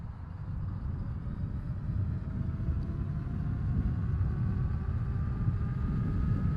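A DYU King 750 electric bike runs at full throttle, a low steady rumble of wind and road noise swelling slightly as a faint rising motor whine climbs with speed.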